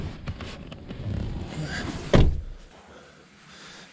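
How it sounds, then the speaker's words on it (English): A single solid car door thud lands midway, sharp and close, amid rustling and handling noises, followed by quieter fiddling. "All right, close this door."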